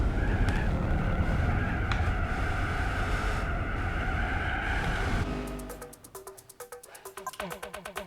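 Race car engine in Gran Turismo 4 roaring steadily under heavy braking for about five seconds, then cutting off abruptly into clipped, stuttering digital noise and scattered clicks.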